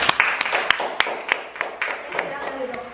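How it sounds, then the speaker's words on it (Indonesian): A classroom of students claps for a group that has just presented in an Islamic jurisprudence lesson: scattered, uneven hand claps, fairly close, with voices talking underneath. "Ya beri tepuk tangan dulu."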